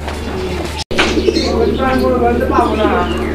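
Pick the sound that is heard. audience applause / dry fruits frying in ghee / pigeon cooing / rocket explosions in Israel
pigeon cooing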